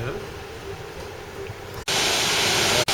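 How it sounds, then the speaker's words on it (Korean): Gibbon Falls in Yellowstone gives a steady, dense roar of rushing water that jumps noticeably louder partway through, with two very brief dropouts. "와 여기가 어딥니까 깁슨 폭포가 되겠습니다"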